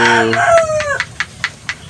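A rooster crows loudly nearby in the rain, its call falling in pitch, followed by several short clucks at a steady pace.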